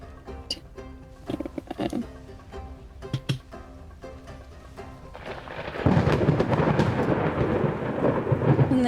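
Thunderstorm ambience as background for a tabletop fantasy game, with scattered rumbles and cracks early on, then a dense, loud roar of rain and rolling thunder that holds steady to the end, with no voices.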